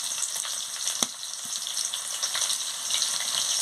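Chopped onion frying in hot oil with five-spice seeds and dried red chilli, a steady bright hiss throughout with one sharp utensil knock near the start, close and even, no talking.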